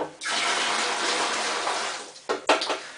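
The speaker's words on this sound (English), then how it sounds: "Just top this up with water." Water gushes from a tap into a home brew wine bucket in a steady, loud rush, then cuts off and gives way to a few splashes and knocks.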